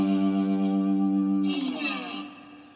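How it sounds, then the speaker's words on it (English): A three-string cigar box guitar plays through distortion, sustaining a thick buzzing chord for about a second and a half before a slide sweeps and the tone decays, with no talking. "Got that distortion going on,"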